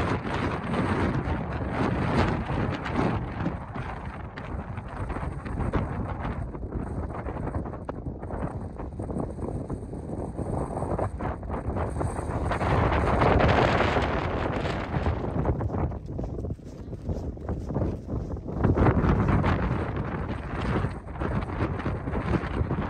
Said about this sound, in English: it's absolutely blowing a gale up here.